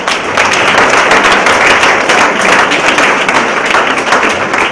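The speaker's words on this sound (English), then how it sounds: "Clap for them." Police trainees at the Puducherry Police Training School are applauded by a crowd, loud, close and continuous clapping that stays even from start to finish.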